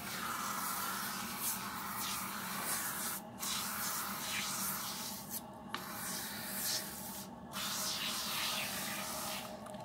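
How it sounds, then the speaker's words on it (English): A steady, continuous hiss of Kaboom toilet cleaner spraying runs throughout, with a few brief pauses between bursts, close and fairly loud, with no voices. "let me spray some Kaboom in here"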